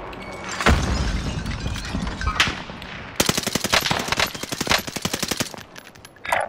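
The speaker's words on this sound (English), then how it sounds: "Throwing out a grenade." Combat sounds in a video game: a heavy blast and scattered shots come first, then a loud, rapid stream of automatic gunfire rattles close up for several seconds, with sharp bursts at the end.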